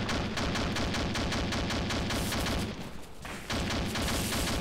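A heavy gun mounted on a BMP fires in the ArmA military game, a loud, steady train of rapid, evenly spaced shots. A brief gap near the end, then the firing resumes.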